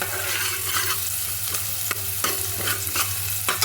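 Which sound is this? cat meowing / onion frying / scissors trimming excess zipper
onion frying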